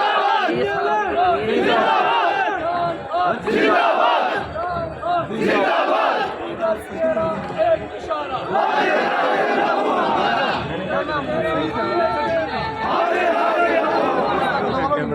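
A large political rally crowd of thousands chants slogans in loud unison, voices swelling in repeated rhythmic bursts with brief dips between calls, dense and close throughout.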